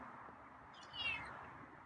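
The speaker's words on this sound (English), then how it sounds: "Oh, another meow." A feral cat gives a single short, faint meow at close range against a soft, steady background hiss.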